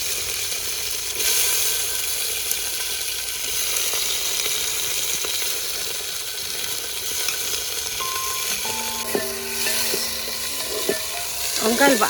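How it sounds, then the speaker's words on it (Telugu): Brinjal pieces frying in oil with green chillies in a pan, giving a continuous close sizzle and occasional stirring scrapes, with a few brief tonal beeps late on. "వంకాయలు బాగా ఫ్రై కావాలి"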